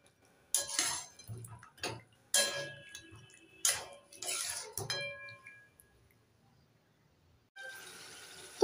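Chicken meat being stirred in a cooking pan for curry, with several distinct metallic scrapes and clinks of a spoon against the pan, close and in separate bursts with quiet gaps between them.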